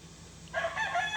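A game rooster crows partway through, a harsh rising call starting after a quiet moment, fairly close over a low background hum.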